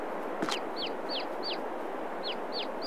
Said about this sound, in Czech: kuřata